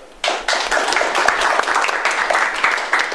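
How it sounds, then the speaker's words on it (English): A meeting-club audience breaks into applause for a presenter, Pak David, the clapping starting abruptly after a brief quiet moment and continuing as a lively, close round of distinct hand claps. "Okay, one more applause for Pak David."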